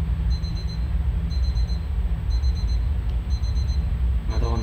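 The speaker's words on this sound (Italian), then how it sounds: "vedete quell'allarme che è brutto" Electronic alarm in a horror video game, a high beeping pattern repeating in regular bursts about once per second over a steady low droning background.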